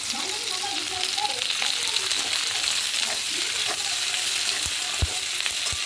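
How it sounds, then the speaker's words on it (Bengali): Onions frying in oil left over from frying chicken for chilli chicken, a steady loud sizzle with occasional stirring scrapes and a few sharp utensil clicks near the end. "এবার এই চিকেন ভাজার তেলেই আমি পেঁয়াজগুলো দিয়ে দেবো"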